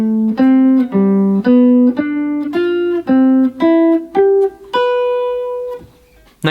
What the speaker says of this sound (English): We're going to play the root, 3rd and 5th and 7th in order for each chord.